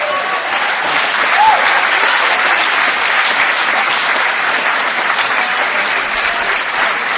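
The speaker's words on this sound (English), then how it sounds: "Thank you for clapping." Sustained, even applause from an audience after a talk at a Sarasota Big Book Weekend gathering, a dense wash of clapping throughout with a few voices faintly underneath.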